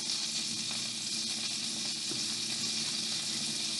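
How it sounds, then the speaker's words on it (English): About a quarter stick of butter sizzles steadily on high heat in a pan with cut-up yellow squash, a constant close hiss and crackle with no talk. "I got my butter melting over here."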